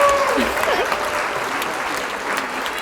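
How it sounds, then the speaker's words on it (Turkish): Applause for the winner of a garden Twister game among a group of girls, a short burst of clapping with light voices over it, fairly close and steady before tapering off. "O zaman Selin'e bir alkış."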